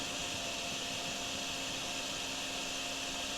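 A vacuum cleaner in Drain Simulator runs with a steady, loud motor whine and airy hiss, unbroken and constant from start to finish with no voices over it.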